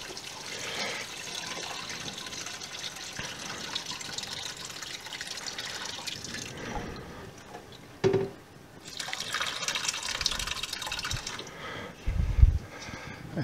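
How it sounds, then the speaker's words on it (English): Whey drains from a pan of homemade pepper jack cheese curds, a soft continuous trickle and pour with a few louder splashes and gurgles, close by and without speech. "drain off the whey"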